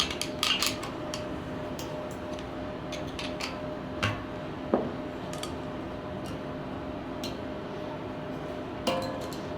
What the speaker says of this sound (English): hammer it a little bit using my screwdriver.